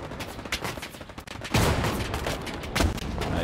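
A tank fires at the player in Hell Let Loose, in a World War II battle at Hurtgen: a loud booming blast hits partway through, with another heavy impact later and continuous gunfire and battle noise around it.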